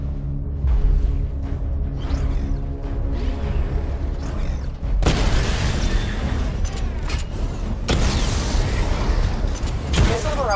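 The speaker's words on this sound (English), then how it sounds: "Destroy targets to charge up weapon energy and activate missile barrage." Batmobile missile and cannon fire in Batman: Arkham Knight, with loud, repeated booms and crashing blasts. Dense mechanical whooshes fill the stretch, and heavy bursts of explosions hit around the middle and again toward the end.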